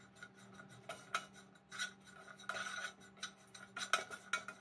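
Chicken being stirred together with mayonnaise and mozzarella cheese in a bowl for bread samosa filling, giving soft repeated scraping and clinking of a spoon against the dish at a steady, uneven rhythm, close and fairly quiet.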